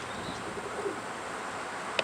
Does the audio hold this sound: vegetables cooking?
no